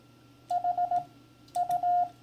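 Ham radio keyer sending Morse code CW as a clean monitor tone, two close bursts of short, evenly spaced beeps with a longer dash at the end, clear and alone.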